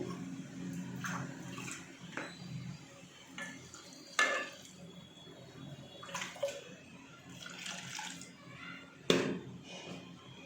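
Water pours steadily into a cooking pot of raw mango and dal for several seconds, with a few clinks and knocks of metal mixed in.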